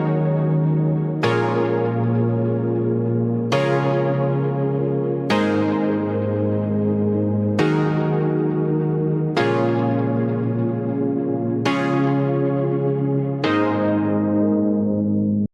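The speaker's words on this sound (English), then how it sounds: "Here are the chords in solo." A synth chord progression played on an Analog Lab sound, seven sustained chords each struck with a bright attack and slowly decaying, heard alone and evenly paced.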